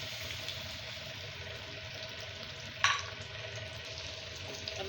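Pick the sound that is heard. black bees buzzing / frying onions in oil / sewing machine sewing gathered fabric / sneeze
frying onions in oil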